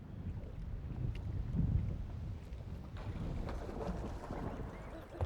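Wind gusting across a lake from a fishing boat during muskie fishing, a continuous low buffeting rumble against the microphone with a steady, moderate roar.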